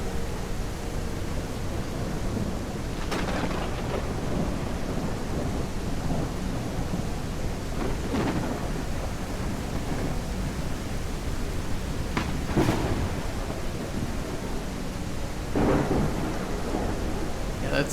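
Steady in-game rain with rolling thunder in Cauldron Chronicles, several sharp lightning cracks and booms breaking through a constant dense hiss of rainfall, continuous throughout.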